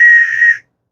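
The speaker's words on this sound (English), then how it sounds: "Okay, so it does whistle." A plastic emergency whistle from a keychain survival kit gives one loud, steady shrill blast lasting about half a second, then cuts off to silence.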